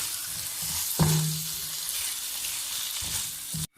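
Fried paneer is stirred into masala in a karahi, giving a steady close sizzle with a sharp scrape near the start and another toward the end, and no talk.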